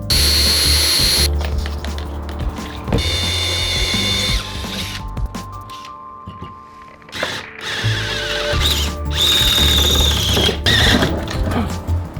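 Power tool undoing bolts on a heavy-duty loading ramp of a Mercedes Sprinter van, loud close whirring bursts starting and stopping in several runs with short pauses between.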